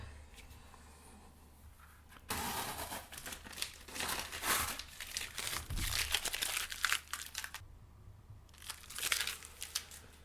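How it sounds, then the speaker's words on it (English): Masking tape peels slowly off the paper edges of a finished watercolor painting, making a soft, close crackling and crinkling rip with one pause midway. "let's remove the tape"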